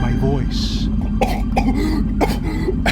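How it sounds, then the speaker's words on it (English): A person coughs and spits out salt water after being swamped at sea at night, several harsh bursts against a steady background of wind and water. "I coughed and I spat it out"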